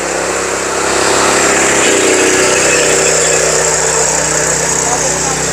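A farm tilling machine's engine running in second gear at a Ludhiana kisan mela, a loud steady mechanical drone that rises slightly in speed partway through, close by with someone talking over it.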